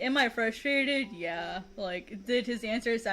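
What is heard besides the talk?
None of the usual background noises is heard.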